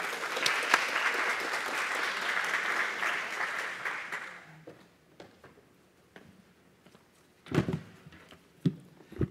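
Audience at a DC Math Ignite event applauding a presenter, a dense, moderately loud round of clapping that fades after about four seconds, leaving scattered claps and room noise.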